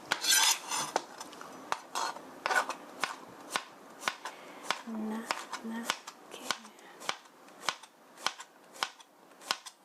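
A knife thinly slices zucchini on a cutting board, sharp crisp taps repeating in a quick, fairly regular rhythm, close and clear, with a voice talking softly underneath.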